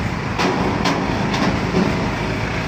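A MingYu forklift loader's engine running, a loud, steady low mechanical rumble with faint periodic clanks, close up and filling the whole stretch without any talk.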